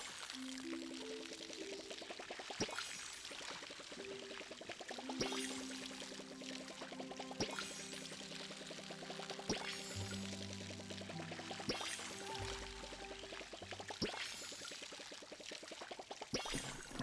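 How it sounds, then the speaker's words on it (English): Water pouring from a watering can onto crops in the video game Palia, a steady splashing pour repeated in several short bursts over soft game music, with no talking. "Let me water my plants."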